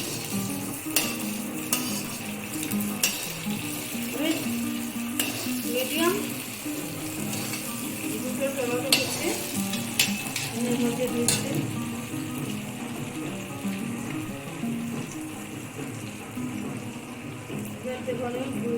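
Chopped tomato and onion with chilli fry in a pan for a Bengali cabbage dish, giving a steady broadband sizzle with scattered clicks of stirring throughout.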